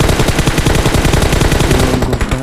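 Rapid automatic gunfire from the PUBG Mobile battle royale game, loud and continuous with dense repeated bursts throughout, no talk over it.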